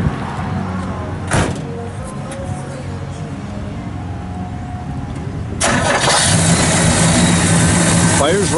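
A 1967 Pontiac GTO with a 4-speed cranks and fires, then settles into a loud, steady, rumbling idle close by, with a voice speaking over the engine.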